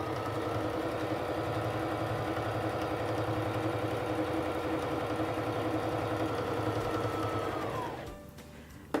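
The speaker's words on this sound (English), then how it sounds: "press on the foot control to start sewing." A Singer Fashion Mate 3342 sewing machine runs a multi-step zigzag stitch in one continuous, even, close-up hum that lasts about eight seconds before winding down and stopping, followed by a faint click.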